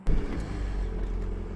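Audi A5 2.0T with an overboost/underboost fault starting up, a sharp onset followed by a steady low idle rumble, close and continuous with no talking.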